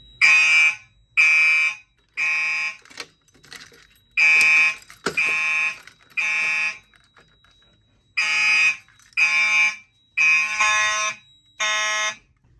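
A fire alarm sounds in a school fire alarm system test, loud harsh buzzing horn blasts in a steady on-off pattern, each about a second long with short gaps and one longer pause midway.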